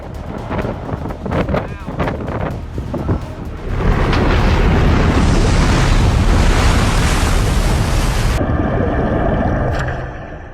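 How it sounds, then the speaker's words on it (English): A huge block of glacier ice breaks away and crashes into the sea in the Svalbard archipelago, the roar starting suddenly and swelling into a loud, sustained rush of churning water, with wind and surf throughout. "Watch this moment in the Svalbard archipelago as a massive block of ice suddenly collapses."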